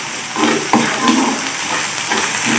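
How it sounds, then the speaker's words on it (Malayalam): Crushed coconut frying in hot coconut oil for Onam erissery gives a loud, steady sizzle, with scraping stir strokes breaking through now and then before the sound cuts off abruptly. "വെളിച്ചെണ്ണ ചൂടായിട്ടുണ്ട്. അതിലേക്ക് ചതച്ച് വെച്ചിരിക്കുന്ന നാളികേര ഇട്ട് കൊടുക്കും. ഇത് വറുത്തെടുക്കണം."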